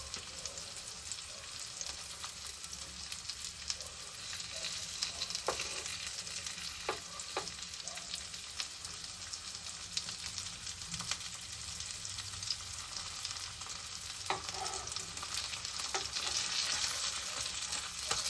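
Sardine fish fry in a pan with a steady, close sizzle and crackle throughout, with occasional small pops and scraping stirs.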